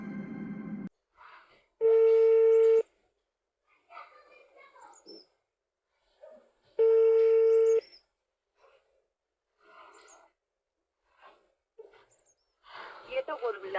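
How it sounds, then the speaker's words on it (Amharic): A telephone call rings out unanswered, with two long, steady ringback tones a few seconds apart and people talking quietly in between. "እየደወልኩለት ነው።"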